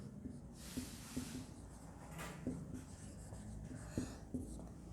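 During an organic chemistry lecture, a marker or chalk scratches across a board in faint strokes. Light taps mark the strokes, with no speech over them.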